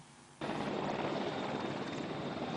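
A helicopter carrying a president arrives. Its loud, steady rotor and engine roar starts abruptly and continues without a break.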